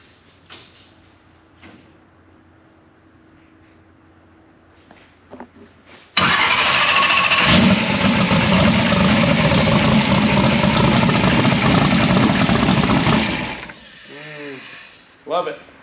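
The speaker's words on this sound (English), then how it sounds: "I'm going to fire it up one time. And when it starts up, I just want to hear it start" A Chevrolet Nova's small-block V8 is started after several quiet seconds, catching at once into a loud, steady, rumbling idle for about seven seconds before being shut off, with faint voices around it.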